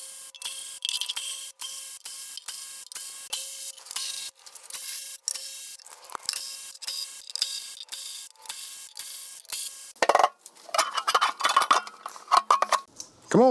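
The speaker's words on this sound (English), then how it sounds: "All right, let's get that oil pan off of there." Metallic clinks, scrapes and rattles from work on removing the oil pan of a 1978 Silver Anniversary Corvette engine, a steady run of sharp tool taps and clanks, busier and louder near the end, with no talk.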